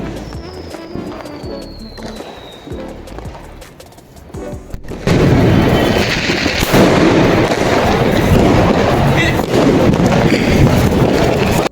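Diwali firecrackers go off, a few scattered pops and a whistle at first, then a sudden dense, loud barrage of rapid crackling bangs that keeps going without pause.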